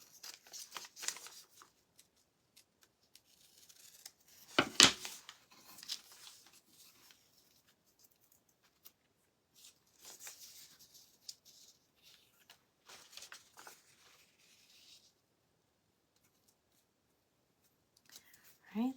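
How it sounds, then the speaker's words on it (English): Scissors snip through white material for a red, white and blue craft, giving scattered close, soft crisp cuts and rustling in irregular bursts with quiet gaps between. "Just going to cut this white off."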